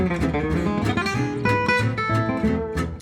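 Gypsy jazz guitar lick, a busy run of rapid triplet notes over rhythmic strummed backing, dense and continuous for about three seconds.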